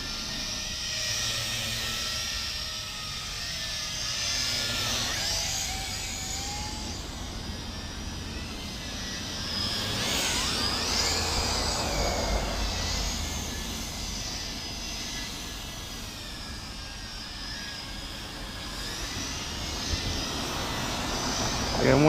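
A Tarantula X6 quadcopter with brushed motors flies over an open field, its steady high buzzing whine rising and falling in pitch as it maneuvers, heard at moderate distance.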